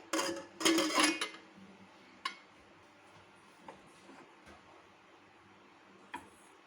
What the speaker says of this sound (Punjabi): ਕੁੱਕਰ ਹੁਣ ਇੱਕਦਮ ਠੰਡਾ ਹੋ ਗਿਆ ਹੈ ਤੇ ਦਾ ਢੱਕਣ ਖੋਲ ਕੇ ਚੌਲਾਂ ਨੂੰ ਚੈੱਕ ਕਰ ਲਾਂਗੇ